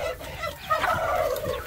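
Chickens and roosters cluck and squawk close by, overlapping calls from several birds in an agitated, continuous chatter.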